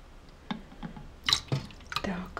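A tablespoon of vinegar trickles into more than a litre of water where kidneys are soaking, giving a few small, close drips and splashes spread over a couple of seconds in a quiet kitchen.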